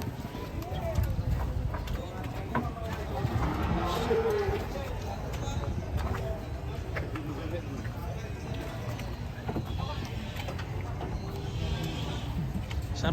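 A cow stomping and thudding as it is loaded onto a vehicle, scuffling hooves and knocks mixed into a noisy, busy scene with people talking throughout.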